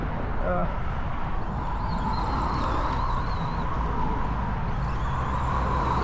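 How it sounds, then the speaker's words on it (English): Steady road noise from a vehicle driving near thick grass, a constant broadband rumble and whine with a voice talking over it. "And I'm sorry about the road noise"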